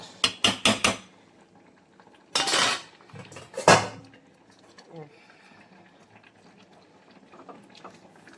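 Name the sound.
stirring chicken curry and covering pot with lid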